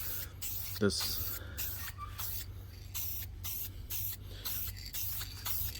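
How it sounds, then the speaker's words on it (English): Spray can hissing steadily as light coats of paint go onto a part of a 1996 Mitsubishi Mirage Asti ZR, a continuous close spray with short breaks and a brief spoken word over it. "Let's get painting. So to start off with, it's light coats."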